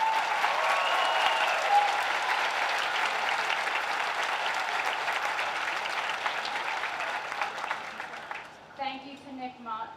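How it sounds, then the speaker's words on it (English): Sustained applause from a graduation ceremony audience honoring the musicians, a dense steady wash of many hands clapping that fades slightly before a voice begins speaking at the end. "Let's start with a round of applause for our musicians."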